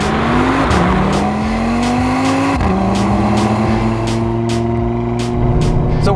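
A car with a 2.5-liter five-cylinder engine drives hard, its loud, close engine note climbing and dropping through gear changes with a steady droning rumble beneath.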